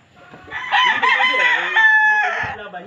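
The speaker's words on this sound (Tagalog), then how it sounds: "Manukan ni Sir Mikmik" A gamefowl rooster at a hillside farm gives one long, loud crow close by, lasting most of the clip.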